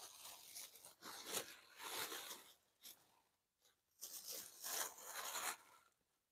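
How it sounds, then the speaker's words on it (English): Tissue paper is crinkled and torn open around a wrapped item in bursts of close, crisp rustling and tearing with short pauses, no talking. "So the last item is wrapped in this tissue paper."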